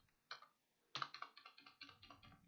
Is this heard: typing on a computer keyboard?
yes